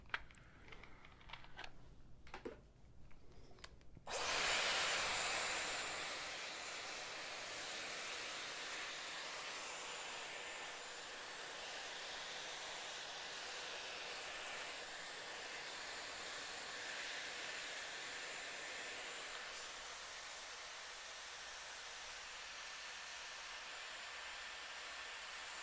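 A Dyson Airwrap blows air while drying curly hair at the roots, starting after a few seconds of faint handling clicks and then running as a steady, loud, breathy whoosh that holds unbroken to the end.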